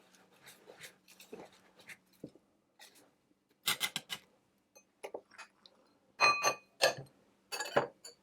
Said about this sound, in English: And then I'm going to add the oats in as well and give them a mix again.